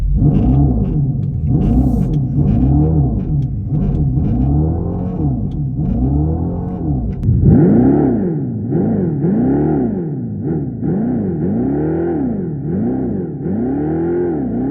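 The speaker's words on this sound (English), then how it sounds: "I have to show you the Fratzonic chambered exhaust" A synthetic Fratzonic chambered exhaust note from a 2025 Dodge Charger Daytona Scat Pack electric car rumbles and swoops, rising and falling in repeated revving cycles, loud and close, with no talking.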